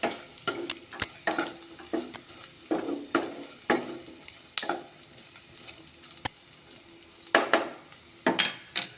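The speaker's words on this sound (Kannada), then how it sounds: "ಈರುಳ್ಳಿ ಫ್ರೈ ಆದ ತಕ್ಷಣ ನಾವು ಕ್ಯಾರೆಟ್ ಹಾಕೋಣ" Onions and carrots stir-fried in a pan: a soft sizzle under repeated sharp metallic scrapes and taps of a spatula against the pan, coming in irregular bursts with quieter gaps.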